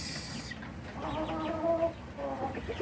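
A crossbred mestizo native chicken on a farm clucks in soft, close, repeated calls over a low background hum, with no talking.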